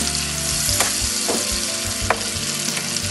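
Chicken breasts brown in a hot pan with a loud, continuous sizzle and a few crackling pops as they are moved around, with no talking.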